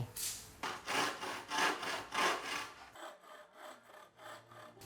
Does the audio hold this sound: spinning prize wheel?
no